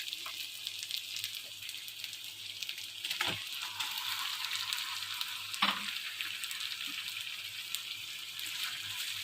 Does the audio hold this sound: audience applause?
no